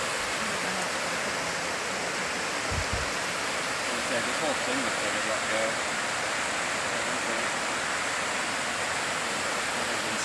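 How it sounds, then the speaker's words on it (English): Raging river rushing past a trail shelter in Vermont, a steady broadband roar of churning water filling the whole clip, with someone speaking briefly over it. "Raging River view."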